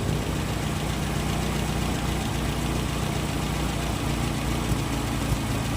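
Car engine idling steadily during an alternator charging check, a constant close mechanical drone with a low hum and no change in pitch or talk.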